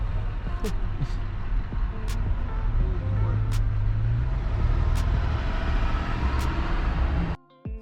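Steady low traffic rumble from a car in city traffic, sitting at red lights, with engines idling and vehicles nearby, a few brief clicks above it, cutting off sharply near the end.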